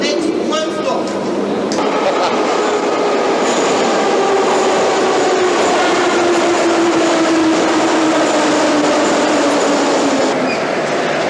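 A train rolls along the rails in Europe with a loud, continuous rumble, a sustained wheel squeal slowly gliding downward and faint rhythmic clatter throughout.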